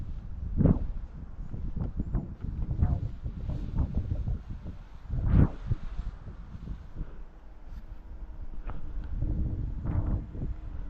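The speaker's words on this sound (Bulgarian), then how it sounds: "Май го духа вятъра доста." Wind buffets a drone-mounted GoPro microphone in uneven low gusts and thumps, loud rumbling bursts coming and going over several seconds with no speech.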